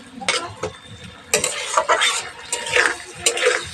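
Masala being stir-fried in a pan, with loud close scraping strokes of a spatula at irregular intervals over a continuous sizzle.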